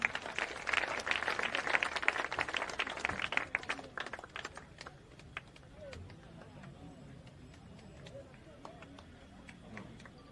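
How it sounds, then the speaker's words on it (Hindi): A crowd at a political gathering in Bihar, India claps loudly for a few seconds, then the applause thins and dies away while voices carry on underneath. "इनके लिए भी जोरदार तालियां।"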